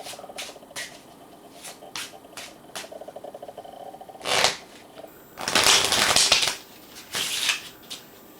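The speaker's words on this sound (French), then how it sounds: "On mélange." A deck of playing cards is shuffled during a card trick, with a fast, crisp run of riffling ticks followed by several softer brushing and squaring bursts, close and clear.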